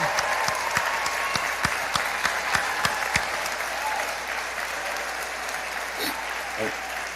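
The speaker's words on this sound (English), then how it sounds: "I can't see the crowd, so hopefully that wasn't an applause track or anything" A live crowd at a volunteer awards event applauds steadily, with dense clapping holding throughout and a few sharper individual claps standing out near the start.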